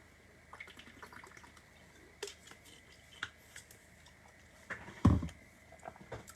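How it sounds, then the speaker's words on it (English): Someone takes a drink of water at a desk: quiet scattered taps and clinks of a glass or bottle, small sips and swallows, and one louder knock near the end, all close and faint in a still room. "So just let me have a drink of water."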